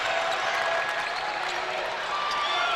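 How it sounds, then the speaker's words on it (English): A basketball crowd at a boys' high school game claps and stomps in a steady, dense wash of noise that fills the whole stretch, with no clear individual voices standing out. "Murray clapping their hands, stomping their feet"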